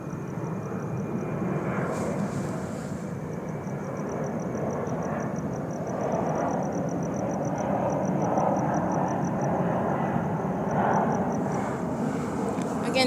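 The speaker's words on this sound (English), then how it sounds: "flying over the parking lot where I'm at the ARCO, stalking in a plane at 11:09 p.m." A plane passes overhead at night above a store parking lot, a steady broad engine roar lasting throughout, with a faint high tonal whine and some wind noise.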